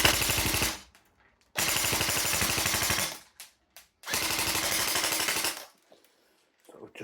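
Airsoft gun fitted with a Perun V3 Hybrid mosfet firing full auto, three loud, rapid bursts of about a second and a half each, separated by short pauses, close and clear with no talk.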